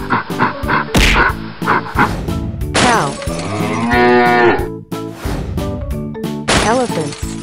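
A cow moos in a long, loud, drawn-out call, repeated within a busy run of animal sounds, close and mixed with other calls and effects.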